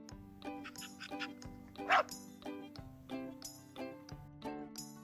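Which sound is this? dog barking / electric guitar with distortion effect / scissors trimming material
dog barking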